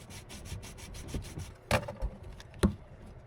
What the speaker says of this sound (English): Cut existing drain. Clean, ream, sand.